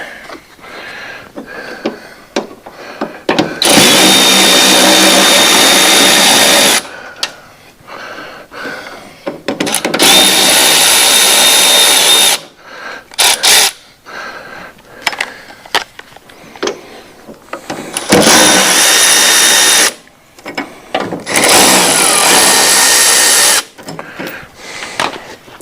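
A cordless power tool whirs in loud bursts of several seconds while loosening the blade spindle bolts on a Hustler FastTrack mower deck, its spindle locked up, with short pauses and clanks between runs.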